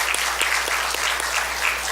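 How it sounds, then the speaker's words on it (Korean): A church congregation claps to welcome back their pastor and his wife after nearly six months in America, a steady, dense patter of many hands filling the sanctuary throughout. "박수로 환영해 주시면 감사합니다"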